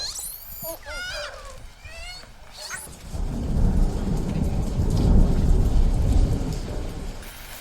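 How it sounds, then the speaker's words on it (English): Heavy rain in a highland forest where crimson-lipped monkeys live, starting as a steady loud downpour with low thunder rumbling beneath; before it, high animal calls or whistles sound briefly. "The rain continues."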